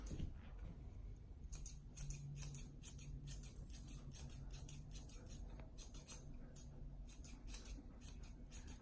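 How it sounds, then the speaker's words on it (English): Grooming shears snipping a corgi's rear fur, close and quiet, with rapid repeated crisp cuts in irregular bursts and no talk. "I never force my shears through."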